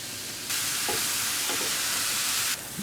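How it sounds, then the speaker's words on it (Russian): Chopped onion, garlic and mushroom stems sizzle loudly in a frying pan, a bright continuous crackle lasting about two seconds with a few soft stirring scrapes, set against a low kitchen background. "Нарезали овощи, и теперь нам нужно их поджарить."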